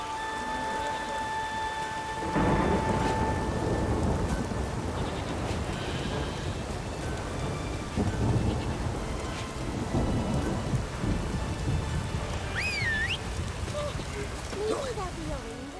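A steady downpour of rain with rumbling thunder in the fantasy game The Witcher 3, continuous and full, with a deep roll of thunder building in and lingering under the rain.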